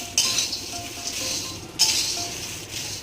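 A spoon stirs and mixes ingredients in a metal pan for an oil-free street-style bhungla snack, with close clinks and scrapes, two sharper strikes, over a faint steady hiss; no talking.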